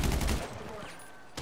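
Gunfire in Grand Theft Auto Online during a heist house assault, a dense burst of shots at the start that fades into quieter game noise, with one more sharp report near the end.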